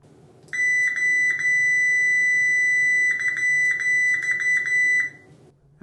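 A Fluke 87V multimeter in continuity mode sounds a shrill, steady electronic beep, first as one long tone and then as rapid repeated short bursts, close and clear over faint background noise.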